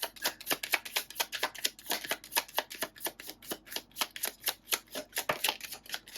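Tarot cards being shuffled make a quick, regular run of crisp riffling slaps, roughly four per second, close and moderately quiet, with no voices.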